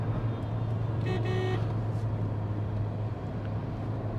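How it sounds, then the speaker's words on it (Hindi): A Skoda Slavia sedan's 1.5 TSI engine holds around 3500 RPM, heard from inside the cabin as a steady, loud low drone with road and wind noise and a brief horn-like tone partway through. "यहाँ आप देखेंगे तो लगभग 3500 RPM पे मैं इस टाइम हूँ, और काफ़ी ज़्यादा नॉइज़ आ जाती है।"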